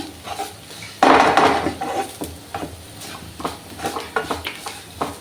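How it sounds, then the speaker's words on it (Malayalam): A spice mixture stirred in a pot while cooking soya beans, with a loud scrape and clatter of the spoon against the metal followed by repeated softer scraping strokes. "ഇനി നമുക്കിത് നന്നായിട്ട് ഒന്നുകൂടെ മിക്സ് ചെയ്യാം"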